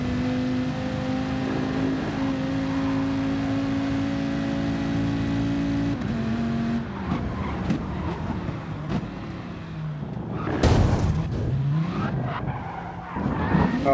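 A race car spins out in GT Sport, the steady engine drone giving way to a rough skid with squealing tires and revving, loud and close.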